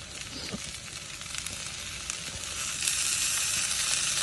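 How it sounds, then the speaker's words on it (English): Sausages and vegetables fry slowly in a pan on a camping stove at a carp-fishing lake. The sizzle is a dense, steady crackle, close and loud, with small pops scattered through it, and it grows slightly fuller toward the end. "Paul's just gonna cook these sausages low and slow"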